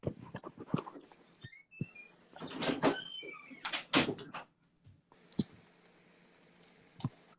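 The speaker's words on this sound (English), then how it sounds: "Can someone close my door? Close my door," A door in a home room is shut amid a run of clicks and knocks: several sharp handling clatters, a louder bang in the middle and a few scattered clicks afterward, close by.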